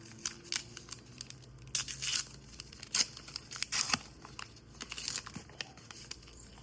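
Star Wars Unlimited booster pack foil being torn open up close, a run of crinkly ripping and crackling bursts with short pauses between them, with no talking.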